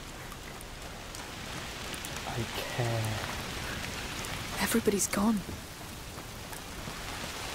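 Steady rain falls in A Plague Tale Requiem, an even hiss of droplets spread across the whole scene, with voices speaking briefly over it.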